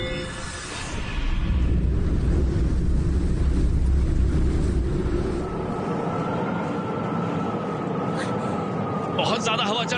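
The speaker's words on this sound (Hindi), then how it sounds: "बहुत ज्यादा हवा चल रही है" A strong wind blows as a steady, roaring whoosh across an outdoor scene in a Hindi-dubbed drama, loud and continuous throughout. A faint tonal hum and a brief rattle come in toward the end.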